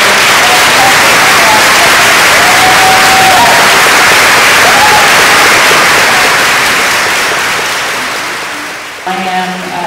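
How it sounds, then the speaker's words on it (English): Alumni at a Mills College convocation receive a loud, dense round of applause from a large audience, sustained and then fading over several seconds, with a voice starting to speak near the end. "Let's have a round of applause for all of our alumni."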